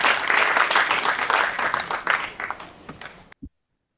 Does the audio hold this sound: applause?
yes